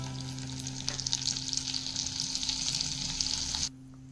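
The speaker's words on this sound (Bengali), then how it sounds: "অয়েলটা গরম হয়ে গেলে দিয়ে দেব বাটার।" Butter sizzles and melts in hot refined oil in a pan, a steady close crackling fry that runs evenly for a few seconds before cutting off abruptly.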